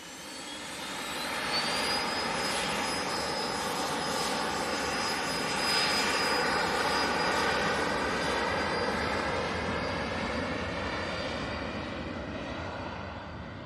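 A Ryanair jet arriving at Manchester Airport roars steadily and loudly for the whole stretch, its broadband engine rush carrying a high whine that glides gradually in pitch as it passes, with no talk.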